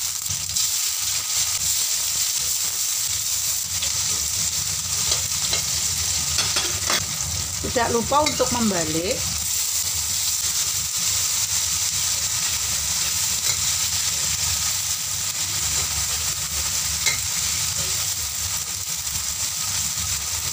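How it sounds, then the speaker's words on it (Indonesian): White tofu fries in oil in a wok with a steady, loud sizzle and hiss throughout, while a voice speaks briefly over the cooking midway. "Ikan wajan dengan minyak lalu kita goreng tahu putih."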